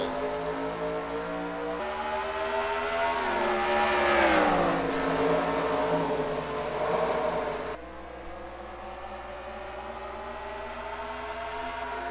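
Race cars pulling away at the start at Richmond in a racing video game, a loud swelling engine roar as the field accelerates, several cars overlapping, then a shift to a steadier drone after a sudden cut.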